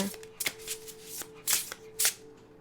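Cards being shuffled in a few quick riffling bursts, close and fairly quiet, with short pauses between them and a faint steady hum underneath.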